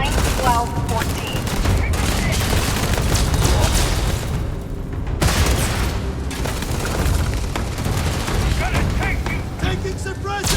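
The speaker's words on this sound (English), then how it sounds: "Taking suppressive fire!" Suppressive gunfire in a Starfield firefight, with a dense, sustained clatter of automatic shots and booming impacts that stay loud throughout, while voices call out over the fighting.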